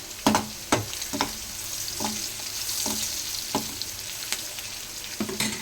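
Paneer cubes frying in a pan with salt and chili powder, a constant close sizzle broken by sharp spatula taps and scrapes against the metal at irregular intervals.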